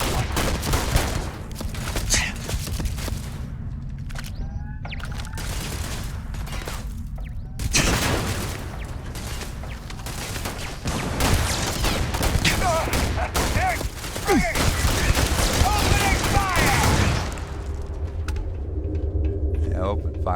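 Gunfire in the video game Starfield, with bursts of rapid automatic shots and heavier booms crackling over a rumbling background for the whole stretch, at times dense and loud, with brief talk mixed in.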